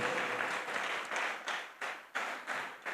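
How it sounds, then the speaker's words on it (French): A church congregation claps together in a rhythmic surge of applause, fairly loud and sustained with pulsing swells across the crowd. "Clap for Jésus-Christ."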